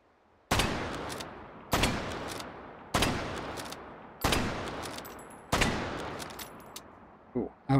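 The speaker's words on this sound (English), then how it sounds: "I'm just gonna keep shooting some bolt actions today." Five loud, sharp bolt-action rifle gunshots from the VR shooter Hot Dogs, Horseshoes & Hand Grenades, evenly spaced with decaying echoes, each followed by quieter bolt-cycling clicks, ending in a couple of brief handling knocks.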